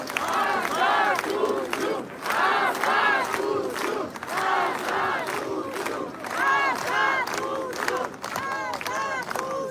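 A large crowd chants and cheers in loud repeated rhythmic bursts, with clapping mixed into the roar of many voices.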